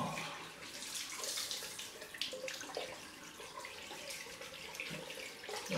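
Cold tap water runs steadily into a sink as a razor is rinsed during a shave with a vintage travel kit, a continuous splashing hiss close by with brief clatters.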